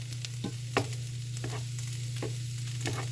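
Chicken noodle soup with a bay leaf is stirred in a pot, a spoon scraping and clinking in repeated strokes over a steady background hum and faint sizzle, with no talking.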